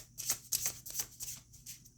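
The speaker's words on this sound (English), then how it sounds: "it's still kind of hard to shuffle that way" Tarot cards overhand shuffled, a deck dusted with shuffling powder giving a rhythmic series of crisp, papery flicks about every quarter second, close and fairly quiet, with no voices.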